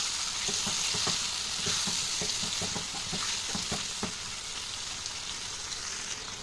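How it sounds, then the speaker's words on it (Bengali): A spice paste sizzles steadily in a hot pan while a spoon scrapes and stirs it in quick, irregular strokes close by, with the frying hiss running throughout. "তো ভালো করে মশলাটা আবার কষিয়ে নেব।"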